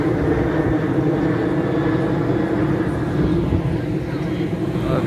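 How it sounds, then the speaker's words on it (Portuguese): An airplane passing overhead at Piedade beach in Jaboatão, Pernambuco, Brazil, a broad steady roar blended with surf and wind, loud and continuous with no clear rise or fade. "O avião passando ali."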